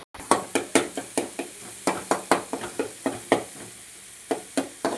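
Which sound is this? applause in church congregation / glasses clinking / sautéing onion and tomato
sautéing onion and tomato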